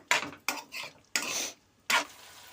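A spoon stirs potato pieces into a tomato and onion curry in a pan. Four quick, separate scraping strokes sound close by, with short gaps of near silence between them.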